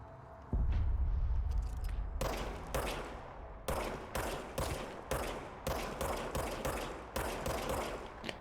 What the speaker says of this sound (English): Now I have a gun. Ho, ho, ho, ho. A gun that automatically reloads.